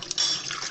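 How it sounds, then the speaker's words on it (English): Hot water pours out of a teapot in a brief, close splash that lasts under a second. "The hot water warms the teapot. Then you pour the water out."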